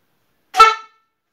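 A single short car horn honk from a Belgian football supporter, loud and close, lasting about a third of a second and surrounded by silence.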